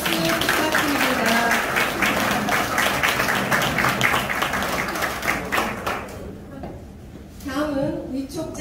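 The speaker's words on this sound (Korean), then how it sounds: "뜨거운 분께 뜨거운 박수 부탁드립니다." Applause at a Rotary Club officer installation ceremony in Gwangju, a crowd clapping steadily for several seconds and fading near the end, with voices talking over and after it.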